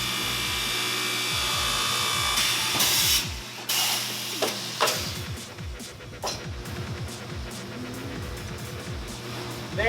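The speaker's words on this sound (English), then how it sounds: "held the part down, drilled holes where we wanted them, inserted dowels where we wanted them, and then let the part go" A gang bore machine clamps a part, drills holes and inserts dowels, giving a steady mechanical whir with rapid, repeated rising pulses and several sharp thumps midway, close and continuous.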